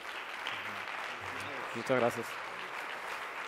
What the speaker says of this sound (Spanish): Un aplauso para Ricardo y para Javier.